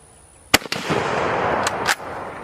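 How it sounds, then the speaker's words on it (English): A military surplus rifle fires one loud, sharp report close by, with a long rolling echo trailing after it and a few further sharp cracks along the way. "I'm going to open fire."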